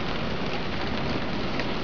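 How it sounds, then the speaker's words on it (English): Steady rain and road spray rise around a car driving on a wet road with standing water, forming a continuous, dense hiss. "it's still raining"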